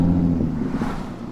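A 2017 Mercedes-AMG C63S with a 503-hp 4-liter twin-turbocharged V8 gives a loud, steady low rumble at close range for a brief moment.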